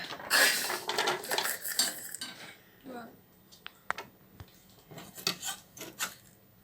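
Pieces of fingerroot dropped by hand into a blender jar make a series of short clattering, rasping knocks and taps, close up and fairly quiet, starting busy and then thinning out to scattered clicks.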